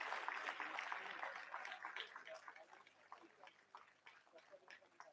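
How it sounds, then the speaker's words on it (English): Audience at a college annual day award ceremony clapping for a gold medal winner, a faint, distant patter of applause that is strongest at first and then thins into scattered claps. "Can we continue to clap for him?"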